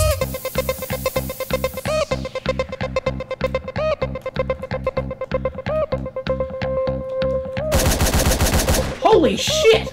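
Rapid video game gunfire from Hotline Miami, a steady stream of sharp synthetic shots over pulsing game music, loud and continuous with a brief frantic flurry near the end.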